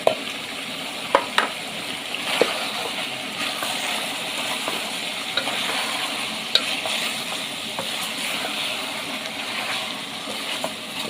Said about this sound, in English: I'm going to cook it for like 7 minutes. And in here, I'm also going to add the carrots.